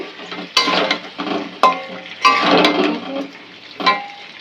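Spices with cinnamon and chili are stirred and fried in homemade ghee, giving a close, steady sizzle broken by several louder scraping stirs.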